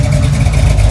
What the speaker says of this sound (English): Holy cow. That's what you call an engine